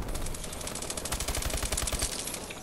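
Automatic gunfire rattles in Call of Duty: Advanced Warfare, a fast, continuous burst of shots at moderate volume lasting a couple of seconds before tapering off.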